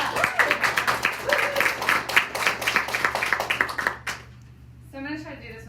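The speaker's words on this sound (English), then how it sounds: "Let's give Lisa a big round of applause." An audience claps for Lisa in a lively burst of applause that lasts about four seconds and then stops abruptly. A voice begins speaking right after.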